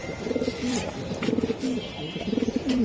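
Racing pigeons, including a red checker, coo in soft repeated rolling phrases at close range, a few bursts over a few seconds, with faint background noise.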